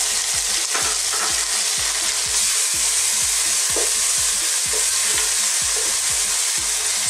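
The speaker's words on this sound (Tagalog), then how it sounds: "hayaan lang po natin maluto yung kamatis ng mga ilang minuto" Chopped tomatoes sautéing in a pan for monggo guisado, a steady close sizzle of frying with repeated stirring scrapes of a utensil against the pan throughout.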